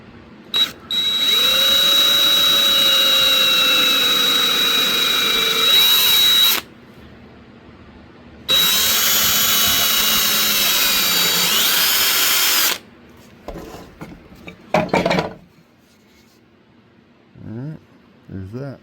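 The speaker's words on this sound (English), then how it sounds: "Hold your drill nice and straight." A power drill runs loud and close in two long bursts, its motor whining steadily as it bores into wood, followed by brief clatter and a few words.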